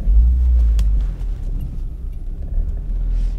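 Steady low road rumble from inside a moving car on an ordinary drive, a continuous engine-and-tyre drone with no talking.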